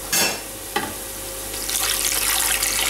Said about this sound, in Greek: τη σκεπάζουμε με νερό τώρα